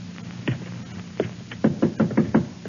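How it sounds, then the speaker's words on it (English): Violent pounding on an outer door in an old-time radio drama, a scattered few blows followed by a rapid run of five heavy, evenly spaced knocks, close and loud, with no voices. "to answer the violent pounding on the outer door"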